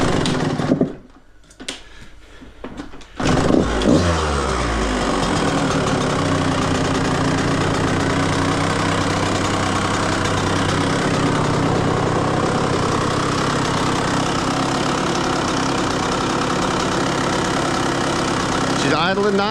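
A 1999 Yamaha YZ125 two-stroke motorcycle engine runs steadily and loud close by, with a few sharp revs at the start before settling into a continuous buzzing idle.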